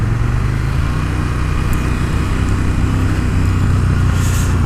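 A KTM 1290 Super Duke R engine held at low revs while riding, a steady loud low rumble with wind noise, continuous and unbroken, no voices.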